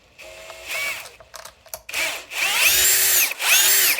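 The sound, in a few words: power screwdriver removing screws from RC car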